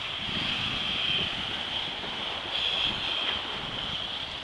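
Floodwater draining off the baseball fields on Park Boulevard into Poplar Creek, heard as a constant broad rushing wash, mixed with wind noise, with no break.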